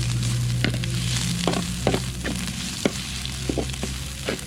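Loud, steady sizzling of frog meat stir-frying in a hot wok, with scattered scraping clacks of stirring throughout.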